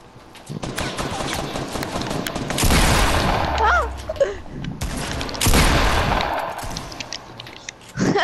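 Gunfire in a Fortnite-style 1v1 rematch, with bursts of loud rapid shots at about three and five and a half seconds, plus scattered sharper cracks, mixed with game noise and a voice talking.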